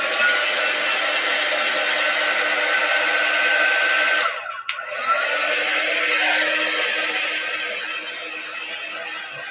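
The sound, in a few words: hair dryer drying chalk paste on a garden flag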